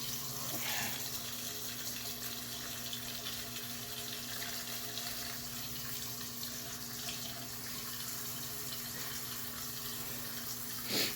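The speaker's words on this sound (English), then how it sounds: "Let's try just filling it through the fill tube." Water runs steadily into the fill tube of a plastic self-watering pot insert, making a faint, continuous trickling hiss that lasts throughout with no voices.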